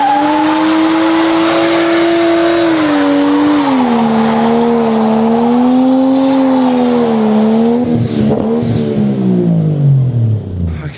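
A car holds a steady high-revving engine note with a wavering tyre squeal during a burnout, loud and close, before the pitch drops away at the end.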